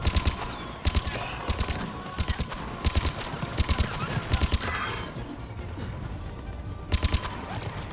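Gunfire from the video game Mass Effect 3, rapid bursts of automatic shots in repeated clusters with a pause in the middle, then another burst near the end.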